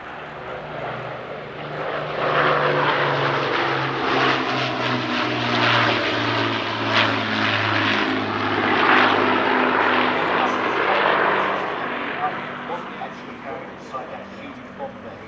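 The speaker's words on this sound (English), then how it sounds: "There's a good view of the Lancaster's bomb bay." A Lancaster bomber flying past at an airshow, its droning piston engines swelling loudly then easing off, while people talk over the sound.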